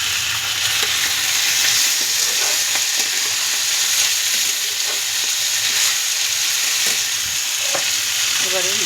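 Masala with green chillies fries loudly in a pan for a home-style goat liver, fat and soya chunk dish: a dense, continuous sizzle with scattered scraping stirs throughout.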